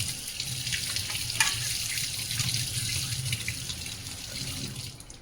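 Tap water runs steadily into a sink while silver puja items are washed by hand, a continuous close hiss and splash with no voices over it.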